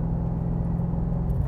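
A Subaru BRZ with a swapped LS3 V8 of 500 hp accelerates at full throttle on a country road, a steady, deep engine drone and rumble heard from inside the car.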